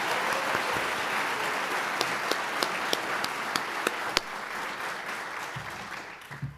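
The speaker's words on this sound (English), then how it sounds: "please give her a round of applause." An audience applauds steadily for several seconds, a dense wash of clapping with a few sharper individual claps standing out.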